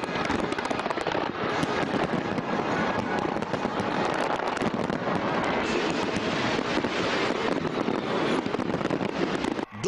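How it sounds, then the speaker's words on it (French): New Year fireworks burst over the Thames in London, a dense continuous barrage of booms and crackles layered over crowd noise and wind buffeting, loud and unbroken throughout. "Là aussi, l'événement est marqué par de magnifiques feux d'artifice."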